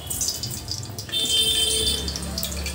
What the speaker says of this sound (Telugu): ఆయిల్ వేస్తున్నాను